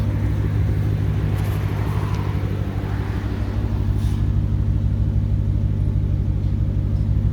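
A Dodge Challenger R/T with a six-speed manual idles with a deep, throaty rumble, steady and close for the whole stretch, with no one talking.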